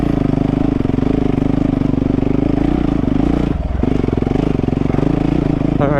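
A dirt bike engine runs loud and close throughout, its throttle held steady with small surges and a brief dip partway through, the motor churning and clattering under light throttle.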